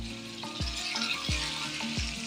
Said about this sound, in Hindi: इसे अच्छी तरह 10 मिनट भून लें।